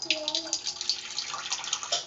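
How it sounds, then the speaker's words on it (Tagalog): Tap water runs briefly into a pot of tulingan (bullet tuna) being cooked as sinaing, a soft close splashing and trickling that continues throughout. "Idagdagan lang natin ng kunting tubig yan."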